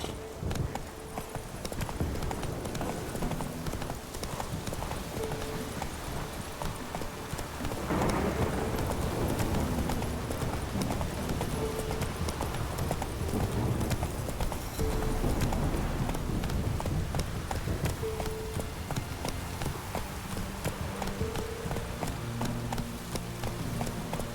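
Roach, Geralt's horse in The Witcher 3, gallops in a quick, steady hoofbeat rhythm over a backdrop of falling rain and distant thunder, with no voices.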